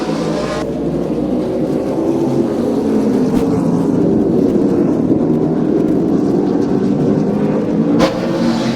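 Race cars roar around an oval track during a Saturday night race, their engines loud and continuous as they pass close by, with a sharp burst near the end.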